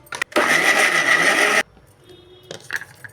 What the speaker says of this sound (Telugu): ఇప్పుడు దీన్ని మిక్సీలో వేసుకొని మెత్తగా వేసేసుకున్నాం